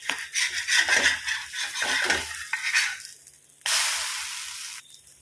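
Masala being stirred and mixed over egg in a frying pan, with scraping strokes and a soft sizzle, then a steady hiss of frying near the end.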